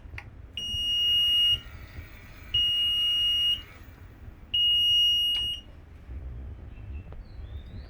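A brushless motor controller's reversing warning sounds three long, shrill electronic beeps, each about a second, repeating with short pauses over a low background hum.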